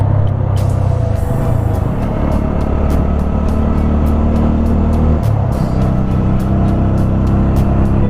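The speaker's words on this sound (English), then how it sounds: "We are on the highway of Bangalore Kanyakumari. This is one good highway." Steady road rumble from traffic on the Bangalore–Kanyakumari highway, heard while riding a TVS Apache 200 4V motorcycle: a continuous low drone with wind noise and faint ticking. No one speaks.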